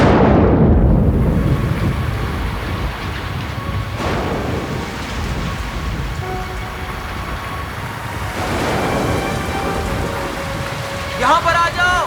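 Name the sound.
rain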